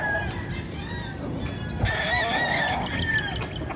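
Chickens on a farm pen cluck and call in a busy, continuous backdrop, with a brief rooster-like crow rising mid-clip and scattered faint voices underneath.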